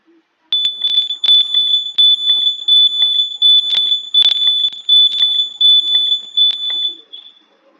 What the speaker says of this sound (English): the alarm rings when the driver closes his eyes.